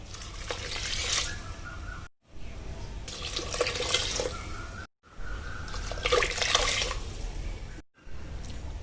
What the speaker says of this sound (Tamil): 3 டம்ளர் தண்ணி ஊற்றியாச்சு.